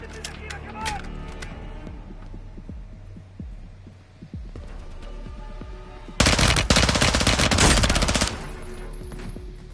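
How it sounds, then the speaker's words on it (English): Gunfire in the video game Call of Duty: Modern Warfare II: scattered shots and thuds lead into a loud, dense burst of sustained automatic fire that lasts about two seconds before easing back to quieter combat noise. "that was a lot of ammo that we had to burn through"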